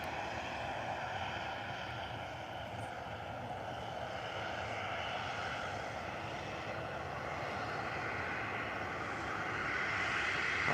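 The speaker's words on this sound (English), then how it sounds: "Ryanair's lined up ready to go." Ryanair airliner engines at Liverpool John Lennon Airport as the plane waits lined up on the runway, heard as a steady, distant broadband roar with a whining hum that swells slightly toward the end.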